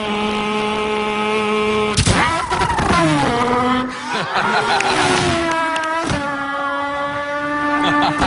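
A human voice imitates a car engine revving through gear shifts, with loud, close rising whines that drop abruptly at each shift, repeated several times with a faint laugh in between.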